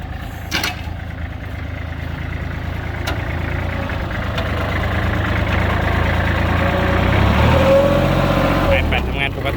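A three-cylinder, 34-horsepower Kubota L3408 tractor engine idles steadily at close range, a low rumbling chug that swells slightly louder toward the end, with faint clicks over it.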